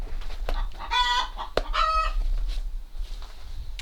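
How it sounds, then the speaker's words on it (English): A chicken clucks in a nesting box built from an old drawer and reclaimed wood, with a couple of close, drawn-out clucks and squawks over steady background hum and a sharp knock between them. "I'll see if I can get a clip of a chicken laying"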